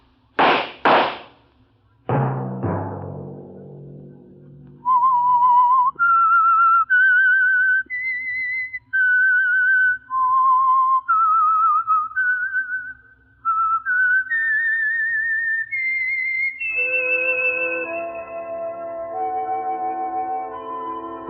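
A few sharp bangs open, then a person whistles a clear, wavering melody of sustained notes, loud and close, ending with a brighter multi-tone whistle.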